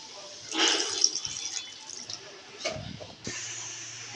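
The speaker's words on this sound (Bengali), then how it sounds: "এবার জল দিয়ে দিলাম" Water gets poured into a pan of cooking potatoes in a short, gurgling splash followed by lighter trickles and a few clinks. A voice speaks briefly in the middle.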